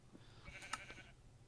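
A sheep in the Minecraft video game gives a single short bleat, faint and somewhat distant over a quiet background, with no speech.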